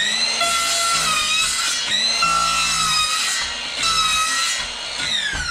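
Power saw cutting the groove off a 3/4 inch Pergo laminate flooring plank inside a tiny log cabin, a loud continuous whining cut with rising and falling pitch as the blade bites through the material.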